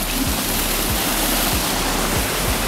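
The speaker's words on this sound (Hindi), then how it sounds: "ये है वो मौसी फॉल्स।" Mosi Falls waterfall in Mussoorie pours with a loud, steady broadband rush of falling water, continuous and close, with faint low thuds pulsing through the roar.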